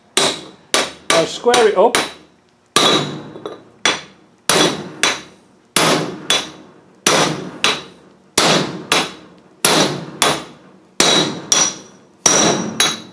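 A hammer strikes metal repeatedly while a wheel bearing is driven in on a Land Rover, loud sharp ringing blows in a steady rhythm about once a second, with a brief spoken remark between hits.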